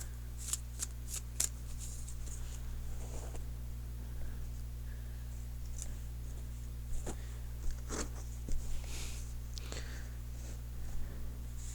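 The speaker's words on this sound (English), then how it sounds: "So I'm going to cut the cards." A deck of tarot cards is cut and shuffled close up, giving a series of sharp riffling snaps and soft sliding flutters spread across the stretch over a steady low electrical hum.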